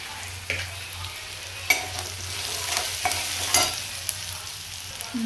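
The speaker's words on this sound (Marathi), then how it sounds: "कांदा परतून झालेला आहे. त्यामध्ये मीठ टाकते." Onion frying with salt while being stirred, a continuous sizzle with repeated scraping strokes of a spatula against the pan and a low hum beneath.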